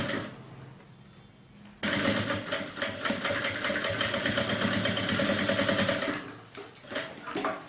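An electric sewing machine stitches bias binding along the side of a fabric handbag, a quiet hum before the motor kicks in sharply, then a rapid, steady mechanical whirring run of about four seconds that stops with a brief tail.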